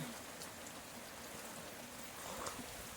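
Rain pours steadily outside in gusty wind near a farm shed where cows are kept. It makes a faint, even wash of hiss and patter that runs through the whole moment without a break.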